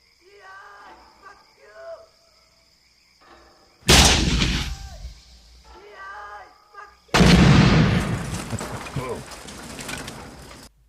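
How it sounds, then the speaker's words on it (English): An M79 grenade launcher fires twice, each shot a sharp close blast followed by a decaying rumble, with people talking between the shots and crickets chirping faintly in the background. "M79 grenade launcher."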